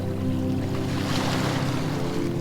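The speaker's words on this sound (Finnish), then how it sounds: "huomaat meren, sinisen meren, kauniit aallot, jotka saapuvat lempeästi rantaan" Gentle ocean waves washing onto a shore, a soft, continuous surf hiss with a low rumble underneath, steady and fairly close, with no voices.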